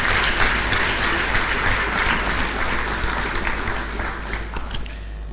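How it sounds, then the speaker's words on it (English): A crowd applauds a cardinal at a church gathering, with dense, sustained clapping that fills the space and fades slightly toward the end. "Let's give Cardinal another round of applause"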